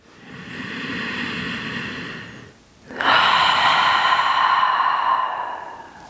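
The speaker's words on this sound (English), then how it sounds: "we'll finish up with one releasing breath" A deep releasing breath taken at the end of a mindfulness movement practice: a long steady inhale, a brief pause, then a louder, fuller exhale, close and alone.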